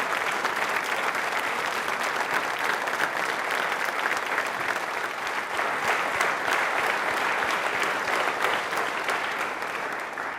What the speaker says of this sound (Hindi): हमारे भारत के शूरवीरों के लिए तालियां दिल से बजाएं